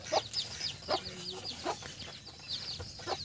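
Chickens cluck in short, repeated bursts while they are being fed, close by and fairly quiet over a soft farmyard background.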